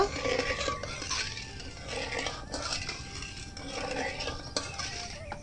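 Sugar and half a cup of water stirred in a pot for sugar syrup, with steady scraping and clinking of a utensil against the pot and a faint simmer running throughout.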